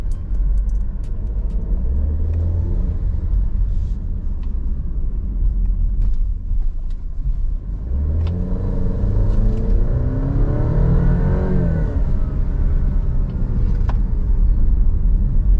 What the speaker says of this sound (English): You can almost kind of hear it like on the D cell as well, like the turbo kind of like slowing down on the spool